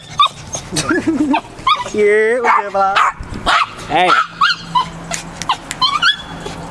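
A dog at a skate park barks and whimpers close by in short repeated yelps and whines while people talk over it.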